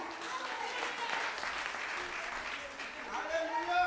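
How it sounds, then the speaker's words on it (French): Church congregation applauding during an evangelist's service, a steady wash of clapping throughout with voices mixed in underneath. "Acclamez mon Dieu"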